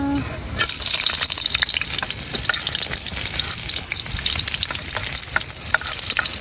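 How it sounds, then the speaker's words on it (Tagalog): Pan sautéing for native chicken tinola, with a loud, steady sizzle and frequent clinks and scrapes of stirring throughout. "Okay guys, gisa-gisa na tayo. Gisa-gisa na."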